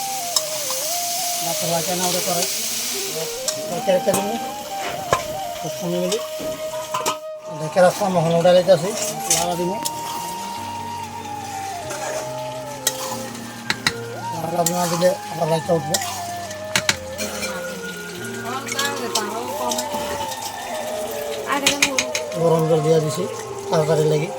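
Pork pieces sizzle and get stirred in hot oil with onions in a pan, village-style cooking, with steady frying hiss and scraping of the utensil running throughout while a person talks over it.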